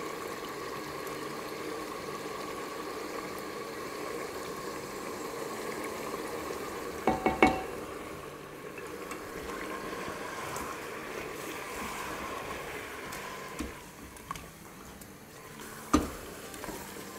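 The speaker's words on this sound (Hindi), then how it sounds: "चिकन को फ्राई होते हुए हो गए हैं 2-3 मिनट" Chicken pieces fry in a pan with Kashmiri chili powder, turmeric and salt, giving a low, steady sizzle with a few soft clinks and stirring knocks; faint and close, with no talk.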